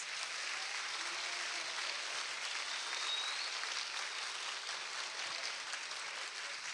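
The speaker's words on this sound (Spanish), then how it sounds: "Un aplauso para ustedes." Audience applauding at a regional constituent council candidates' debate in O'Higgins, a steady, even wash of clapping at moderate level, continuous and without voices.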